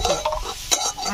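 A brief burst of close stirring over eggs sizzling in a pan for egg bhurji, the spoon scraping through the hot, crackling mixture.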